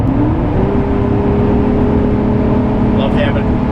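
A Porsche 928 S3 with automatic transmission kicks down and accelerates, its V8 giving a steady, loud, close engine roar with a rising tone throughout, no voices over it.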